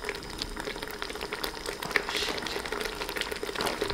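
Pizza sauce simmering in a pot on a camp stove, a soft, steady bubbling and light popping that carries on evenly without any talk.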